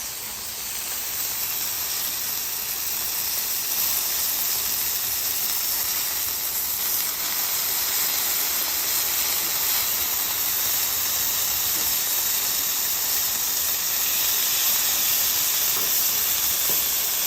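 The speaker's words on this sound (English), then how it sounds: "If your griddle's ripping hot like this, it doesn't take long." Beef burger patties sear on a very hot griddle, giving a loud, steady, broad hiss and sizzle that holds unbroken throughout with no voices.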